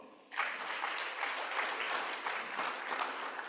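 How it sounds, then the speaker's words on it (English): Audience applause at an awards ceremony, a crowd's clapping starting suddenly and continuing steadily at moderate volume for a few seconds. "So a big round of applause there as well."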